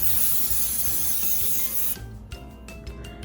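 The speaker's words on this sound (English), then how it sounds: "Grease your pan and set aside." A baking pan is greased for banana bread with a steady rubbing rasp that runs loud and continuous, then drops to quieter, scattered scrapes partway through.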